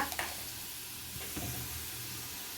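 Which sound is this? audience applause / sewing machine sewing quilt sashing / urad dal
urad dal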